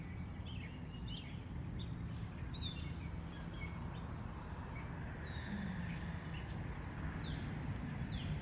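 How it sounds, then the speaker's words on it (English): Birds chirp in an outdoor natural setting, giving short, high, repeated calls scattered throughout over a steady bed of ambient noise, fairly faint and distant. "The birds, like just listening to the birds and just nature sounds in general"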